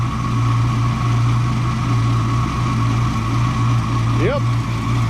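A 1962 Ford Falcon Tudor engine idles with no muffler, giving a steady, loud, close, low rumble throughout. A brief rising squeal cuts in near the end.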